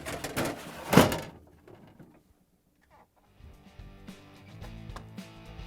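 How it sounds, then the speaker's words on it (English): An ice bin in a Whirlpool, KitchenAid or Maytag refrigerator slides into place with a sharp close knock, then a pause, followed by softer rattling and bumping as the door shuts. "Slide the ice bin in and close the door."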